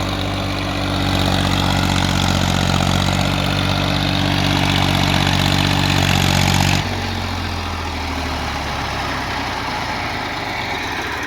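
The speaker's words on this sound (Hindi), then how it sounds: "ट्रैक्टर की आवाज़ और चेक कर लो एक बार।" A heavy Massey Ferguson TAFE 30 DI tractor engine with a rotavator runs loud and steady with a deep, throbbing drone, then abruptly drops to a lighter, quieter running sound partway through.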